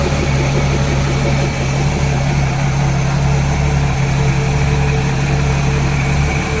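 A 1966 Ford Mustang inline-six engine idles in a workshop after being started and purged. The steady, close, even rumble carries a constant low hum and vibration throughout.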